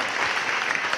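Crowd at an anniversary celebration applauding the artists, a brief dense burst of many hands clapping, close and fairly loud, steady throughout.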